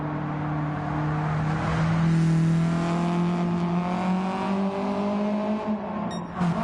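A WRX Challenge race car in a racing video game holds a steady, loud engine drone with sustained tonal whine and slight pitch drift, continuous and up close with no talk.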